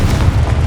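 A Confringo spell explosion in Hogwarts Legacy lands as one loud, close, deep boom with a rumbling low-end burst filling the whole brief moment.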